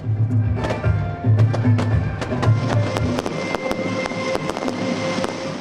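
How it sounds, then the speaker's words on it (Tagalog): Crackling bursts and sharp pops of a midnight community fireworks display in Manila go off repeatedly over a loud, rumbling crowd-like background. "nagliwanag ang paligid sa makulay at maingay na community fireworks display"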